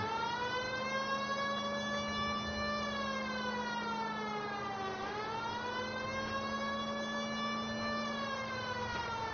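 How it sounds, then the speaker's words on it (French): A police car siren in the video game L.A. Noire wails steadily, its rising and falling pitch sweeping slowly and continuously, loud and alone without talk. "la petite sirène qui passe bien aussi"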